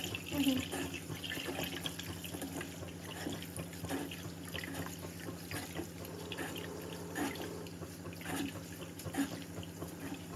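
Tap water runs steadily into a sink as packaged shirataki noodles are rinsed, a continuous splashing wash with a voice speaking now and then over it.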